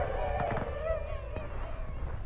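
Artillery fire in the Civil War battle game War of Rights, a couple of sharp distant booms cutting through a steady rumble of battlefield noise.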